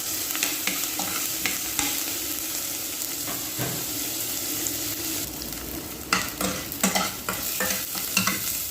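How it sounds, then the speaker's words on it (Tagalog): Onions and garlic sautéing in a pan for a chicken dish give a soft continuous sizzle, punctuated by scraping stirs that grow more frequent and sharper toward the end, close and without talk. "So yan na guys, nag-isa ng onions and garlic."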